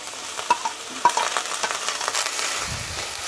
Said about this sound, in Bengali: তেলটা গরম হয়ে গেছে, এখন আমি দিয়ে দিচ্ছি এর মধ্যে কুচানো পেঁয়াজগুলো